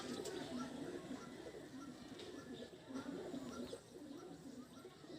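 Pigeons coo softly and repeatedly, low rolling calls recurring every second or so, faint against a noisy rooftop backdrop.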